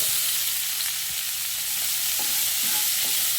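Sliced onions fry in a pan with cinnamon and fennel, giving a steady broadband sizzle with a few soft stirring scrapes near the end, close and continuous, with no voices.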